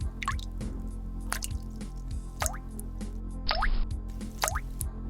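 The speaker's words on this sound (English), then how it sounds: "And the pool table, and water droplet." Water droplet sound effect from the video game Duke Nukem 3D: a run of bright, plopping drips repeats at an even pace over a low background hum.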